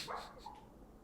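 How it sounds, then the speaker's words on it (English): A sleeping dog whimpers, one brief high nasal whine rising and fading, faint and close. "my dog is sleep whimpering"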